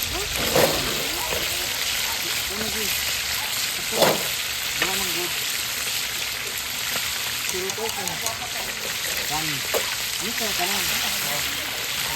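Chicken frying in a pan at an outdoor farm gathering makes a continuous loud sizzle, with people talking over it and occasional clatter nearby.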